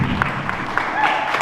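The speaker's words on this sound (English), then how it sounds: "Y'all give her another round of applause." Audience applause for a singer at an Africa Expo event, a steady wash of clapping from a crowd that holds at an even level throughout, with a few brighter claps standing out.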